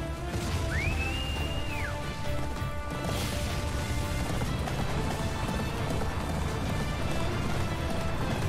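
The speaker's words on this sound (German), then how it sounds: "Pferd?" A horse gallops in the Attack on Titan 2 video game, a steady running rhythm under a dense, loud game soundscape with a rising whistle-like tone early on.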